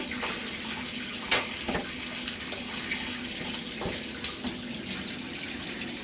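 Water runs steadily from a tap into a baby's bath, a constant hissing splash with a few faint knocks and clinks, heard alone without voices.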